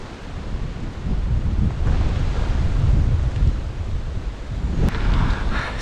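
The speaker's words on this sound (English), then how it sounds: "Still windy." Gusty wind blowing across a gated country road, a loud rumbling roar buffeting the microphone in surges, with no speech over it.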